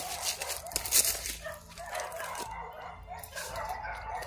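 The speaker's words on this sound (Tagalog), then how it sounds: "mga aso." Dogs bark and yip at a distance outdoors in scattered bursts, with a few whimpering, howl-like cries mixed in and rustling noise nearby.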